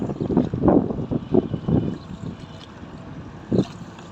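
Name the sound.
boat travelling on the Buriganga river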